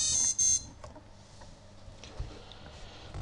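Right after the battery is connected to a drone's ESC on an FY450 frame with a CC3D Revolution flight controller, two short, loud electronic beeps sound, followed by faint ticks and quiet handling noise.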